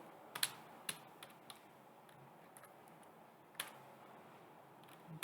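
A computer keyboard typing a few sparse, faint keystrokes, isolated clicks spaced out over quiet room tone, with no speech.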